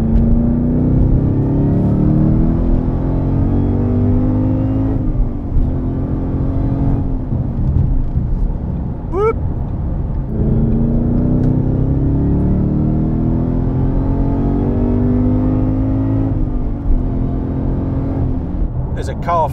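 An 808 bhp Shelby Mustang Super Snake V8 pulls hard under acceleration, a steady loud engine drone with rising pitch, heard from inside the car while people talk over it.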